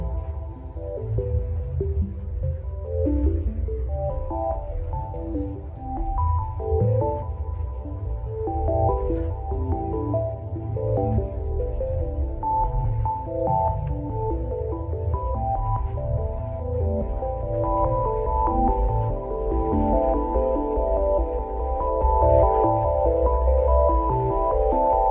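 A sustained synthetic hum made by sonifying Big Bang data, with layered, shifting tones and soft throbbing pulses, steady and continuous throughout, with no talking.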